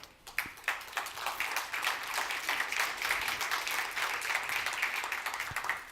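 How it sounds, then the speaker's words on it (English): Light golf-clap applause from an audience at a beverage pitch competition as a semifinalist is called to the stage, a thin scatter of quick, close hand claps that holds steady for several seconds before tapering off. "That was a golf clap."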